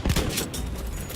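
Gunfire from a sniper rifle in the shooter video game Battlefield V, a short burst of loud, dense shots and explosive cracks over a brief moment of busy battle noise.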